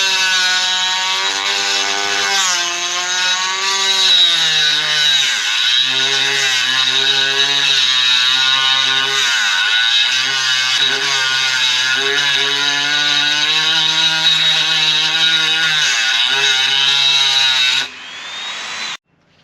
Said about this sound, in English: I'm gonna just shave a little bit off with the Dremel drill and see if I can get a spanner onto that